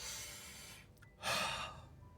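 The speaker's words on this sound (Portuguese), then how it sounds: "Se você puder puxar o ar nesse momento" A man draws in a deep, audible breath, a soft airy rush after a brief pause, with quieter breathing before it, close and faint.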